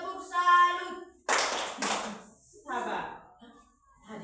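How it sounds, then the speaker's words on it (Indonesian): A classroom of students performs a rhythmic clapping routine, two loud bursts of hand claps in close succession followed by a softer patter, with a teacher's voice heard before and between them. "Tepuk salut."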